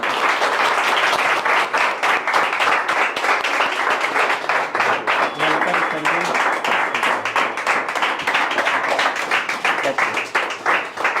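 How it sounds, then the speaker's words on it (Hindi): Audience applause for guests invited on stage at an interview session, a loud, steady wash of many hands clapping that holds throughout with dense, overlapping claps and faint voices underneath. "जोरदार तालियां उनके लिए।"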